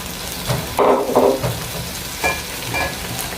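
Onions with ginger garlic paste sizzle in a pot for beef pilau, steady frying hiss broken by several louder scraping stirs of a spoon, close and without talk.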